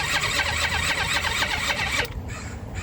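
A small petrol engine on an Eaton Beamer Matrix 2 being rebuilt cranks on its electric starter with the choke off, a loud, steady chugging that cuts out abruptly near the end, leaving a quieter fading hum.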